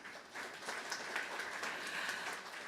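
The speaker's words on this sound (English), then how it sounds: "feel free to clap for yourselves" Audience applause at an awards ceremony for outstanding small businesses, steady dense clapping from a crowd filling the room, moderately distant and continuous throughout.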